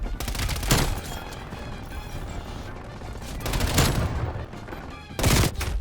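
Bursts of paintball MP5 fire in an online shooter game, three loud rapid volleys spaced a couple of seconds apart over a steady background din.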